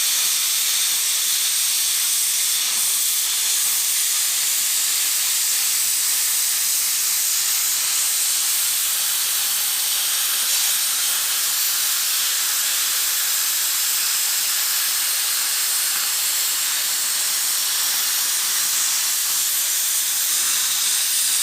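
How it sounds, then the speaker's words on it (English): Plasma cutter slicing through the front-end sheet metal of a Ford Capri, a loud, steady, unbroken hiss that runs for over twenty seconds with no pauses or speech. "Plasma cutter right through there."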